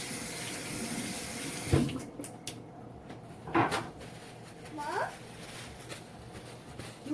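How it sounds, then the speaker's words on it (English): A tap runs steadily into a kitchen sink while messy hands are rinsed under it during tilapia taco prep, with a few sharp knocks and clatters breaking through the continuous water noise. "I got messy hands, so I'm going to rinse them off real quick"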